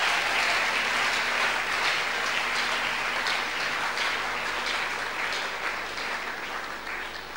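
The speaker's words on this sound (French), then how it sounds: "Ah, ces acclamations, mon Dieu" Church congregation applauding and cheering during a sermon, a steady dense wash of clapping and crowd noise that slowly fades over several seconds.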